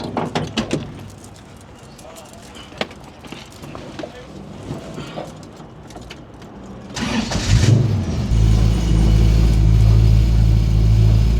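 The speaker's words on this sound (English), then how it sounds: "This car's been sitting at the paint shop for literally 5 weeks, and I just started it up." A car that sat at a paint shop for five weeks cranks and fires up at about seven seconds, settling into a loud, steady idle close by after a stretch of quieter sounds and voices.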